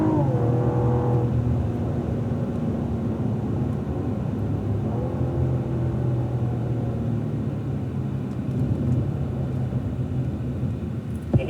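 A Cadillac ATS-V at Fontana Speedway gives a steady, loud engine rumble that rises and falls in pitch as it accelerates down a straightaway, continuous throughout with no talk.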